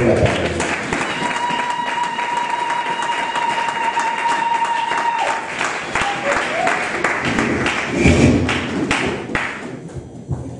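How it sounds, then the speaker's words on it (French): A church congregation at a Sunday service applauds in praise, dense sustained clapping filling the room alongside thumps and sustained tones, with voices mixed in and the clapping thinning toward the end. "Nous devons un coup d'acclamation au Seigneur"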